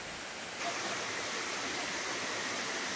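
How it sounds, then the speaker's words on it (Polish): Waterfalls at Polylimnio in the Peloponnese, Greece, a constant broadband roar of falling water that swells slightly after the first half second and then holds steady, with no voices. "te piękne wodospady"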